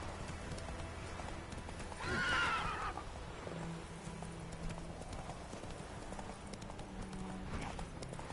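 Hooves of Roach, a ridden horse, pound at a gallop at moderate distance, with a brief louder neigh or whinny near the start, then steady galloping over a low background hum.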